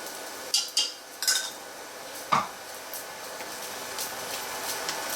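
A utensil scrapes and clanks a few times against a cooking pot as browning food for Provençal pieds paquets is stirred, short sharp knocks over a faint sizzle, no voices.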